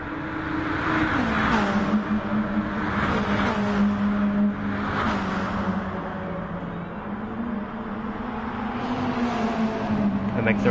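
Race cars at Monza in Gran Turismo Sport drive through the Parabolica curve, engines droning steadily and shifting pitch as they pass, loud and continuous throughout with commentary-style talk layered over the top.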